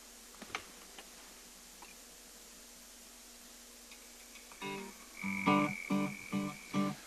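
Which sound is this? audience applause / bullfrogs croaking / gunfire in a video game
bullfrogs croaking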